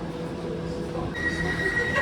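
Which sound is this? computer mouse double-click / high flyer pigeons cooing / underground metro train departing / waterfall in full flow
underground metro train departing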